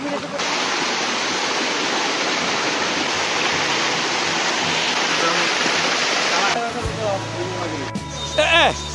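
A loud, steady roar of a waterfall at Birendra Para fills most of the clip, then cuts away to quieter outdoor sound with a brief voice near the end.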